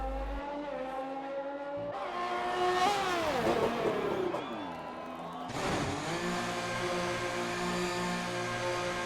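A McLaren Formula 1 car in the F1 2020 racing game roars past at the British circuit, engine note rising and falling through a doppler sweep, with tire noise and other car engines droning around it.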